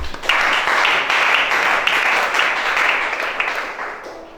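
A church congregation applauds at a worship service, a loud dense wash of many hands clapping that holds steady for several seconds before slowly fading, with no voices over it.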